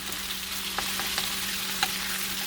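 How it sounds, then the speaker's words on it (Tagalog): Chicken pieces fry in a pan for adobo, a steady close sizzle with occasional light stirring scrapes and small pops throughout. "Hintayin natin guys na medyo mag toast yung ating chicken."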